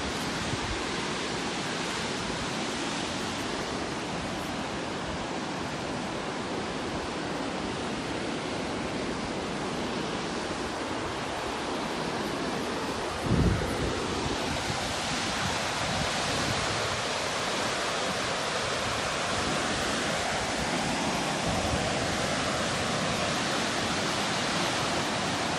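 Kepler Cascades waterfall in Yellowstone National Park roars as a steady, dense rush of falling water, broad and constant throughout with no voices.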